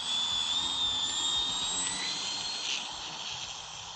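E-Flite Turbo Timber Evolution RC airplane on a 3S 2200 mAh battery, flying outdoors on a windy morning, its electric motor giving a steady high whine with a slight drone that fades a little toward the end.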